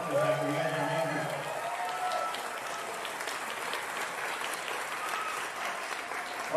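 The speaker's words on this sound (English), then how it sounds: "another round of applause for these guys" A crowd at a taiko drumming conference concert gives another round of applause, broad clapping that runs throughout, with a voice talking briefly over the opening seconds.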